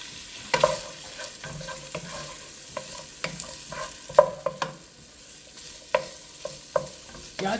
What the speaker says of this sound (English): we're just going to saute that for a minute or two